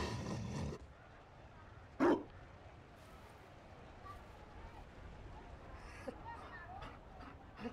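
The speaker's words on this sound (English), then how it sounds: "You found a dog? They don't breed Mabari in Olay." A Mabari war dog in the game Dragon Age Inquisition's Trespasser expansion gives a single short, sharp bark against quiet ambient game sound, with a little background noise before it.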